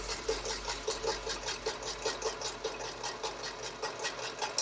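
Domestic sewing machine running a 5/8 seam, a quiet continuous hum with a fast, even stitching pulse throughout, fairly faint and alone.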